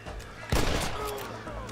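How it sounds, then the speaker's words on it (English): A single sharp gunshot rings out in the Red Dead Redemption video game, loud and close, on the way to Mexico, then trails into a rumbling tail over ambient game sound, with other shots faintly behind it. "Someone just shot me."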